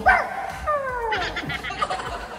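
A person imitates a dog on command, giving loud yipping barks and whining, falling cries in quick succession up close, with faint background noise.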